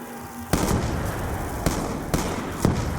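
An EMP grenade detonates in Black Ops 2, with a burst about half a second in that leaves a dense crackling, fizzing wash, and further sharp pops over the next couple of seconds.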